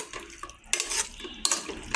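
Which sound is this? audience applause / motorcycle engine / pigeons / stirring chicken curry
stirring chicken curry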